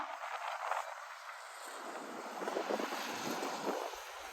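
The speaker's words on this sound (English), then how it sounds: "The wind is really starting to get" Wind gusting across an open street on a chilly November walk in Regina, a steady broadband rush with buffeting microphone noise throughout, alone with no talking.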